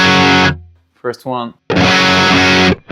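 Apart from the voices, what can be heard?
BT MT15 guitar pedal distortion, compressed and growly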